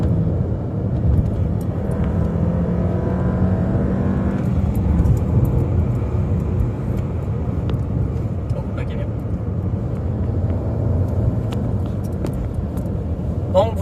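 A Volkswagen Golf cruises at 120 km/h on a motorway in sixth gear, its engine and road noise a steady, unbroken drone heard from inside the cabin.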